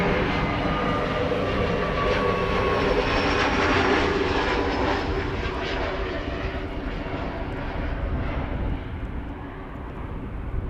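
KLM airliner inbound from Newcastle arriving at Amsterdam Schiphol, a loud steady jet roar filling the whole span with a slow whine drifting overhead, easing slightly toward the end.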